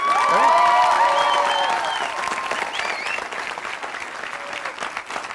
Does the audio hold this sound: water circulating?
no